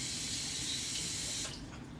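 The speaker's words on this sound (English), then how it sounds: "let me rinse my hands real quick" A kitchen tap runs hard while hands are rinsed, a close, steady rushing spray that eases slightly near the end as the flow changes.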